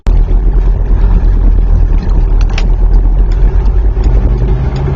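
A 1981 Mercedes 300CD turbo diesel coupe with a four-speed manual pulling away in first gear, a loud, steady, close diesel drone with a gritty low rumble and no talk.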